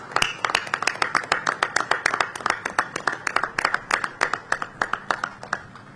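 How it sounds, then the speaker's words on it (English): A crowd applauds Customs and Border Protection staff at the Port of Baltimore during a visit by Vice President Pence. Crisp, distinct hand claps ring out at a brisk, uneven pace, close and fairly loud, with no talking over them. "Let's give CBP a round of applause here at the Port of Baltimore"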